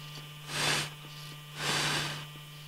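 Two short puffs of breath blown onto a desktop PC motherboard to cool it, soft and close over a steady electrical hum.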